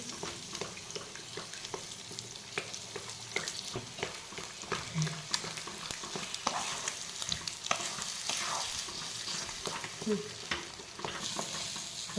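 Broken eggs being mixed for egg bhurji, heard as repeated close scraping and clinking of a utensil against a vessel over a faint sizzle, with no talking.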